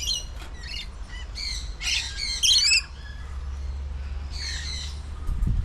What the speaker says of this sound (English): laughing kookaburra. Part of the kingfisher family.